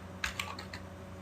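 A handful of quick, quiet keystrokes tap on a computer keyboard, about five light clicks in an irregular burst over a soft room hum.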